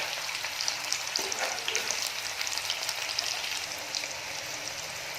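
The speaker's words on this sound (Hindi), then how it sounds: "इस तरीके से भूनेंगे।" Pointed gourd (parwal) and potato frying in a pan until reddened, giving a steady, dense sizzle that holds evenly throughout, with faint occasional stirring scrapes and no voices.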